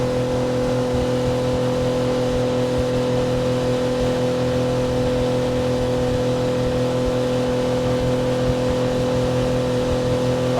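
A 2024 Suzuki DF25A outboard motor runs steadily at about 5000 RPM on a boat, a loud constant droning hum with no change in pitch throughout.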